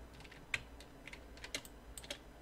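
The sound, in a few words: computer keyboard shortcut keys being pressed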